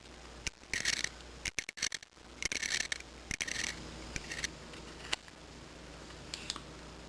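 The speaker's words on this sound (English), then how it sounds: "I'm going to use the end of my hobby knife and I'm going to scrape off the excess resin" A hobby knife scrapes excess resin off a 1/35 scale model kit in short, quiet, close bursts of crisp scratching separated by brief pauses, with a few small clicks.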